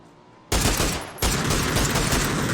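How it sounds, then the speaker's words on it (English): A PUBG firefight in which a rider is shot in the head and knocked off a bike: a sudden loud burst of rapid gunfire, then a second volley that keeps going as a dense, continuous rattle. "Fancy Pants getting headshot off the bike."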